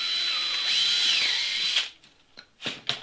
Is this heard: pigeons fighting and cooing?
no